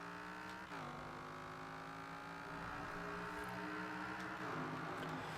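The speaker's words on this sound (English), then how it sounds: "You need to put the V10 engine swap into it. It's quite a strange sounding car" An AMC Gremlin fitted with a V10 engine swap accelerating in Forza Horizon 4, a loud, sustained engine note climbing in pitch through gear changes, with no talking.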